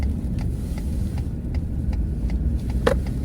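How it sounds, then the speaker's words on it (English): Inside a car, a turn-signal blinker ticks in a faint, steady rhythm, barely rising above the constant road and engine hum. "sorry, my blinker's going"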